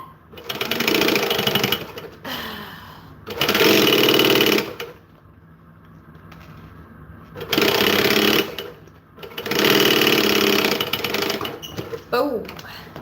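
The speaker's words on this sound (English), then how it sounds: "So we're going to go over the last few stitches because obviously they are not locked in." A sewing machine running back over the final few stitches of a lining seam, in several loud, close bursts of rapid whirring separated by quiet pauses, with speech in the gaps.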